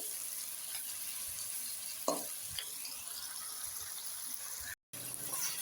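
Chopped medium-sized onions sizzling in half a cup of oil in a kadhai, a soft, steady frying hiss with a couple of brief stirring scrapes and a short break near the end.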